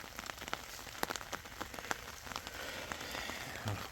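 Heavy rain falls in an orange orchard, with a steady patter of drops and sharper taps striking leaves and surfaces, fairly faint and continuous with no voices.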